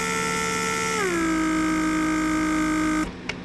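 A 1998 Mercedes door lock vacuum pump hums steadily as it runs, its pitch dropping and settling as vacuum builds, then shutting off abruptly followed by a brief click.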